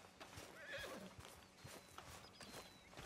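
A horse whinnies and neighs in Red Dead Redemption 2, close and clear, with hoof clip-clops and soft ambient noise beneath.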